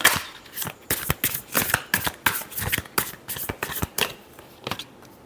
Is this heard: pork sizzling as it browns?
no